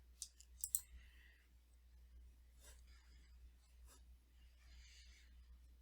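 A few sharp computer mouse clicks on the Create button in Adobe Illustrator, quick and close, bunched near the start, then quiet rustling and faint handling sounds.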